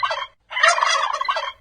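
A wild turkey gobbles close and loud, a short rattling burst, a brief pause, then a longer rapid gobble trailing off.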